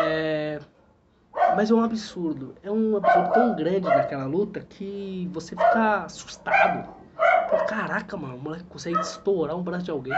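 A dog barks intermittently in the background while someone talks continuously over it in Portuguese, the barks partly masked by his voice.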